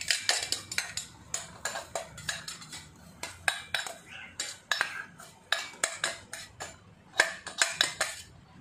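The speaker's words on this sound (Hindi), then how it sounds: "तो मैंने ये सारा मिक्सचर डाल दिया है, इसको अच्छे से मिक्स कर लेंगे।" A spoon scrapes and clinks against a pan as a milk-based sweet mixture is stirred for a special mithai made without ghee, sugar or mawa, a steady rhythm of close metallic taps and scrapes with no talking.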